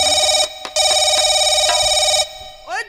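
A telephone rings loudly in a home in repeated electronic bursts, with a short gap before it resumes, then stops abruptly. A brief voice follows at the very end.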